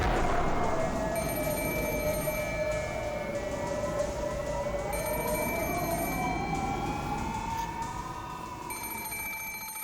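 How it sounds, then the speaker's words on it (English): An alarm clock rings on and on in a horror visual novel game, a loud sustained electronic tone wavering in pitch with bright repeated bell-like pulses over it, alone and without talk. "my alarm clock had been ringing for quite some time"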